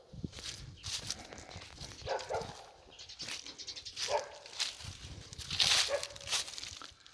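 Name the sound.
dogs barking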